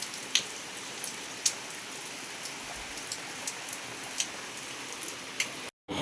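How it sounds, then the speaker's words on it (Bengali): Heavy, steady rain pours outside in the early morning, a dense continuous hiss with scattered louder drops ticking close by, then a brief drop to near silence just before the end. "বাইরে দেখাচ্ছি কি প্রচুর জোর বৃষ্টি হচ্ছে"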